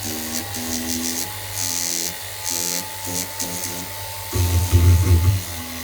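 A small power tool sanding a silver jewellery piece whirs in short, repeated bursts, stopping and starting, then grinds harder near the end.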